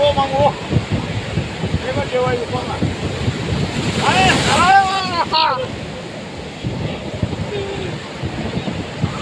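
Ocean waves roll in at Digha beach in a continuous, loud surf roar, with gusts of wind buffeting the microphone and people talking over the wash of the water.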